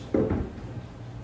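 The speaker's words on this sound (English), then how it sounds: "I'm just gonna grab me one of these big old doors" A large cabinet door being picked up and handled during drywall-mud cabinet refacing, a single short wooden knock and shuffle, close, followed by quiet.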